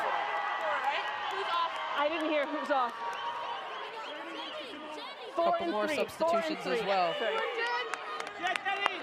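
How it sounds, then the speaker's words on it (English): Crowd at a women's rugby match between the USA and Canada, a loud roar of cheering and whoops carrying through under a commentator's running talk, with bursts of clapping toward the end. "The crowd is just so loud."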